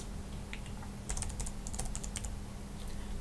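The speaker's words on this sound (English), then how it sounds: "I can even type here." Light, faint clicking of typing on a computer keyboard, a short irregular run of keystrokes over a low steady background hum, with no talking.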